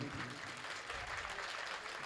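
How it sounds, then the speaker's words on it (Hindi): Applause from the audience at a Hindi kavi sammelan poetry recital, a steady, moderately loud wash of clapping that holds evenly throughout without any break. "इतनी कमजोर तालियां तो सौरों से मुझे उम्मीद नहीं थी"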